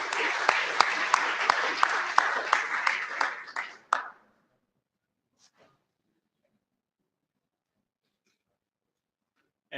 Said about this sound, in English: So round of applause for Terrell for winning our Twitter contest.